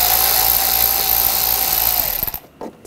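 A ratchet turns an 8 mm socket to loosen a worm clamp on a 2013-2019 Ford Escape exhaust hose. A loud, close mechanical whir runs for about two seconds, then breaks into a few separate clicks before stopping.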